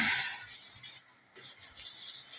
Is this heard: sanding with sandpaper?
yes